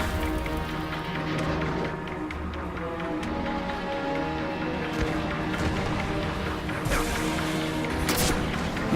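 Dense, continuous gunfire from enemies in the video game Destiny 2: Warmind, rattling loudly through the whole stretch with sharp bursts rising near the end and no clear voices over it.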